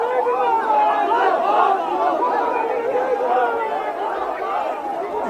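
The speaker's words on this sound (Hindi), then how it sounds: "कुछ नारेबाजी तो हो रही है वहां पर" A large crowd of party workers at a protest site in West Bengal chants slogans, a dense, continuous wall of overlapping voices at steady loudness throughout.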